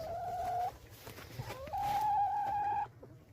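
Chickens call out nearby, with a drawn-out tonal squawk and softer clucks over a low background hum.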